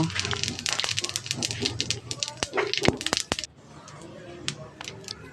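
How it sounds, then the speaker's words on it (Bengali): Cumin seeds and dried red chillies crackle in hot oil, giving close popping spits over a voice before settling into a steady, softer sizzle. "এবার একটু জিরে ফোড়ন দেব"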